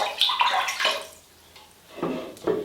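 Wet fabric is lifted and lowered into a basin of soapy water at room temperature, giving close splashing and sloshing bursts with a quieter dripping pause in between.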